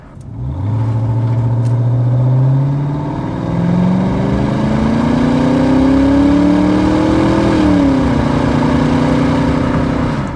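1989 Ford Mustang 5.0 convertible with an automatic, on a test drive. The V8 rumbles loud and close, rising through several gear pulls with a brief drop between shifts.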